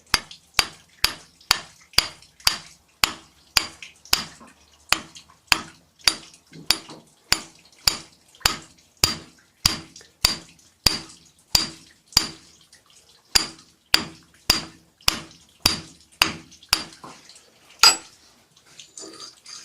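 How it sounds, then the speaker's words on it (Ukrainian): A small hammer taps a metal coupling shaft about thirty times at a steady, even pace. Each strike is crisp and ringing, close by, with quiet gaps between. "і молоточком його"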